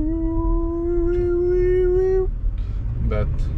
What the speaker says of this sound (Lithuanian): Tik iš dėžės tas garsas, bet jau čia jau nieko nebepadarysi tikriausiai.